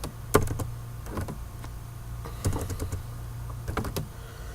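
Keys clatter on a computer keyboard in short, uneven clusters of taps over a low steady hum, close and moderately quiet, with no talking.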